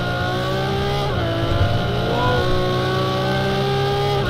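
A road-legal Ferrari in the Project CARS 2 racing game, its engine revving loudly and steadily, the pitch dipping and then climbing again as the car accelerates, with no talk over it.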